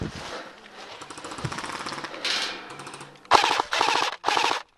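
Airsoft gun fired during an outdoor field game, rapid full-auto bursts of close mechanical rattling, the last second broken into several short loud volleys with brief gaps between them.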